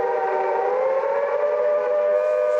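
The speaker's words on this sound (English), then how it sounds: "This is like the bomb sirens." A loud, steady wailing air raid siren from the 1960 film The Time Machine holds a sustained high tone with rich harmonics, droning continuously without pause.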